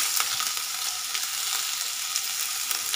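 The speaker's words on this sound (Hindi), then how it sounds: "प्याज हम अच्छे से भूनेंगे" Onion and garlic fry in oil in a pan, a steady loud hiss and crackle of sizzling that runs unbroken and close, with no voices over it.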